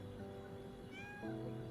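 A cat meows once in the video game Silver Palace, a clear, short rising-falling call over a steady hum of game music and ambience.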